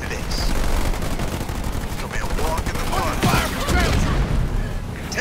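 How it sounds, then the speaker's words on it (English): Rapid bursts of gunfire from ground troops in the video game Halo Wars 2 crackle continuously with booming impacts, loud and dense, with voices talking over the battle. "Fire from ground troops."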